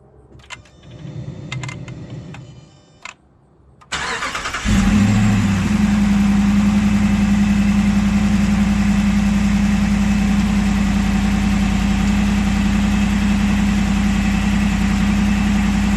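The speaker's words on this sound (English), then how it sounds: "What I'm going to do is go start the truck and kick on the AC." A 2009 Hemi 1500 pickup engine cranks and fires after a few seconds of quiet handling noise, then settles into a loud, steady idle with the air conditioning switched on.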